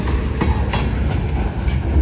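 A twelve-car freight train carrying a special load rolls past close by on the Hamilton Northwestern Railroad, its steady, loud rumble broken by rhythmic clickety-clack wheel beats.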